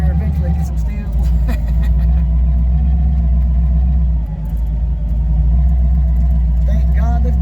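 Car driving over an old double-arch stone bridge, heard as a loud, steady low rumble of engine and tires throughout, with people talking faintly over it.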